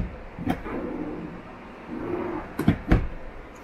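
Drawers in a 2021 Jayco Jay Flight SLX 8 236TH travel trailer sliding open and shut, a soft rumbling glide followed by a few sharp close-up knocks and clicks, with low background noise.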